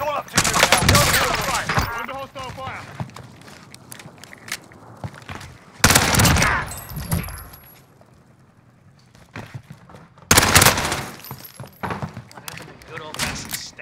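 Bursts of StG 44 automatic rifle fire in a video game, loud rapid volleys in several bursts with pauses between, alongside game sounds and thuds.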